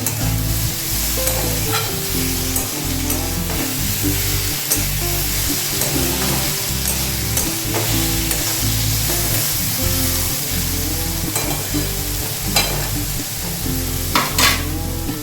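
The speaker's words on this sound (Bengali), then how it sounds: "ভাজা ভাজা হয়ে যাক, একটু লালচে মতো" Vegetables sizzle and fry in a pan for a Bengali curry, a loud, steady crackle with repeated stirring and scraping sounds cutting through the continuous frying.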